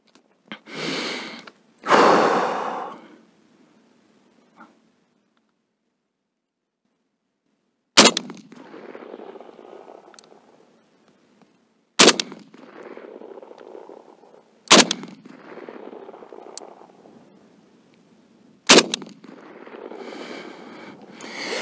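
Four separate sharp shots fired at an upper target while testing an EOTech Vudu 1-6x24 replica scope, each a crisp crack with a short decay, spaced several seconds apart, with a brief earlier noise and faint handling sounds between them.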